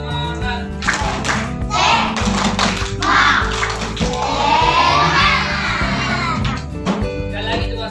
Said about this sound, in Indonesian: Nah, coba tepuk semangat.